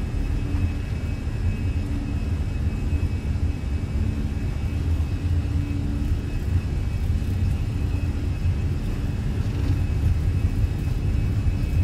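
Airbus A320 engines at takeoff thrust in Microsoft Flight Simulator roar as a steady, loud, deep rumble with a smooth whir, constant and close throughout with no talk.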